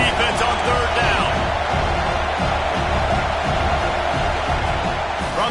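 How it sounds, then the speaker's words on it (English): Steady stadium crowd roar from a football video game, an Alabama versus Missouri matchup, swelling loudly and continuously behind the defense on third down, with commentary talk layered over it. "Decibels rising as the crowd gets behind this defense on 3rd down"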